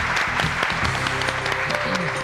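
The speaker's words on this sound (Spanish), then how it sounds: "Un aplauso para él." A studio audience at a televised quiz show applauds, giving a dense, steady wash of many hands clapping together, loud and sustained throughout.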